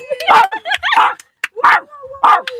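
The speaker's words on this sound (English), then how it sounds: "Even the dog is happy!" A happy dog lets out a quick series of excited yips and barks, loud and close, mixed with cheering voices in a celebratory moment in Spain.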